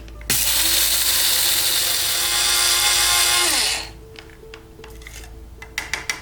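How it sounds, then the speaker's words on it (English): A grinder whirs steadily as toasted spices, dried thyme and salt are ground into powder, then stops, followed by a few light clicks and taps. "I'm going to add 2 teaspoons of dried thyme and 1 teaspoon of salt, and then grind them all together into a powder"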